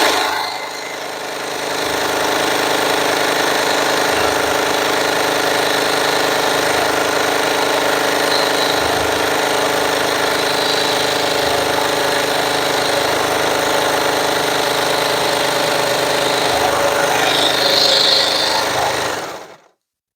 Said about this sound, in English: Look at how beautiful these stitches are and how fast the machine is.